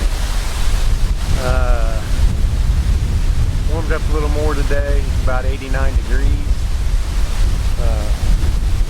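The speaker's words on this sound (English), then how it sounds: "it's pretty windy tonight. There's wind, southwest wind. It's gusting probably about 15 to 20." Steady gusty southwest wind, gusting about 15 to 20, roars across the microphone throughout at night in Missouri, with someone talking over it.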